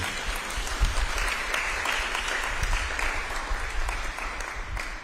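An audience applauds a pageant finalist, a steady wash of many hands clapping at moderate distance, sustained throughout without speech.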